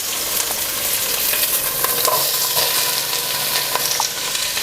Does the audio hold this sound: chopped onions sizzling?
yes